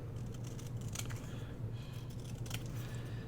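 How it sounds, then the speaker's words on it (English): Scissors snip a paper number for a fabric-and-paper botanical swatch tag, a few crisp cuts rising over a steady low room hum, close and fairly quiet. "let's just cut out one of these numbers."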